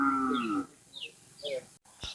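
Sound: cattle mooing (racing bulls)

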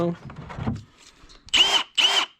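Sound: cordless drill-driver running

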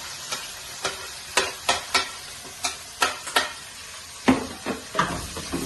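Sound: onions frying in pan

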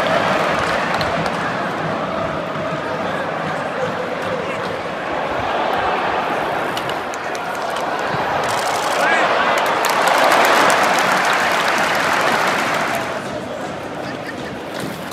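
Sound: football stadium crowd, Bournemouth match

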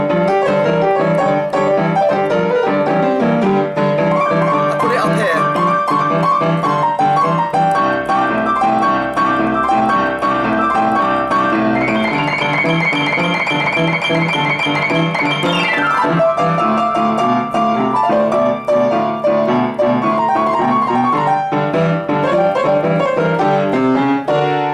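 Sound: boogie woogie piano rolling blues riff in blues boogie context

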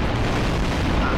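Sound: explosion in the video game Garry's Mod

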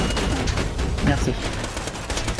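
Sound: turret gunfire in the video game Borderlands 2

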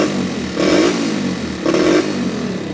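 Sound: four-stroke engine sprayer running roughly

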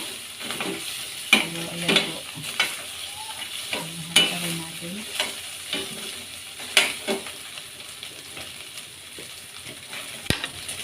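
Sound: onion and garlic sautéing in cooking oil with meat

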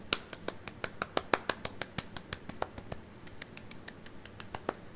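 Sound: group clapping hands in celebration

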